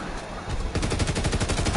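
Rapid automatic gunfire from a video game weapon rattles out in a dense, fast burst after a brief moment of quieter noise, loud and close throughout.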